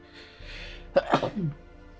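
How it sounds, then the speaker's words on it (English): A single sharp sneeze, preceded by a brief inhaling buildup, close and fairly loud in an otherwise quiet room. "I'm gonna sneeze."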